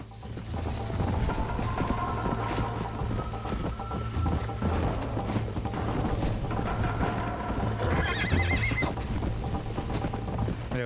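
Hooves of a galloping horse in a cowboy video game clatter in a fast continuous rhythm, loud and close, with whinnies and neighs rising over the running near the end.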